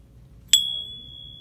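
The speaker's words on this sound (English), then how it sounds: "Bird doorbell" A cast iron bird doorbell at a mall booth gives a single bright chime, struck once with a clear metallic ring that decays slowly over a quiet indoor background.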